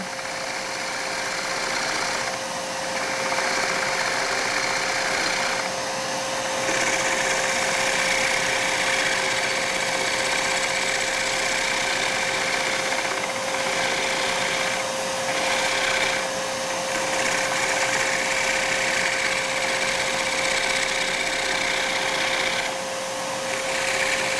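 A wood lathe spins a three-foot natural-edge bowl while a scraper works the surface, giving a steady loud motor whine and hiss of cutting, with brief dips as the tool lifts away.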